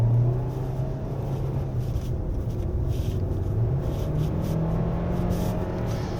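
A 2024 Hyundai Santa Fe 1.6 Turbo Hybrid HTRAC accelerates hard on a winding road, its engine and electric motor pulling together as a steady, droning rumble inside the cabin.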